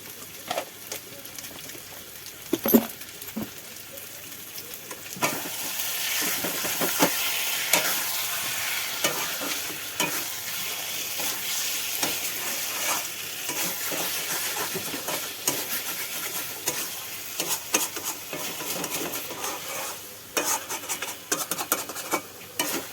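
Meat sizzles and fries in a pan as it is stirred and sautéed for kosha, with scraping spoon strokes and occasional sharp clinks over a continuous crackle, no talking.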